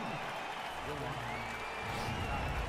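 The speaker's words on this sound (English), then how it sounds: "Receives an ovation from the crowd as it is just announced that he is over 200" Crowd ovation at a baseball game in MLB 18, steady broad applause and cheering from a stadium crowd sustained under a commentator's voice.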